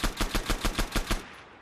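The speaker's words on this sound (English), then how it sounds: "it's an extremely quiet gun" Semi-automatic rifle fire in Arma 3 from an extremely quiet gun: about eight evenly spaced muffled shots in quick succession, moderately loud and close, followed by a short fading tail.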